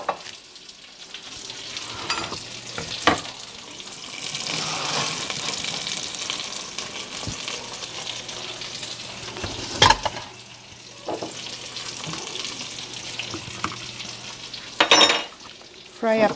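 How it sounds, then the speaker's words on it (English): Pieces of parmesan-breaded chicken fry in a pan with a continuous loud sizzle, broken by occasional clinks of utensils and cookware. "Fry up the rest."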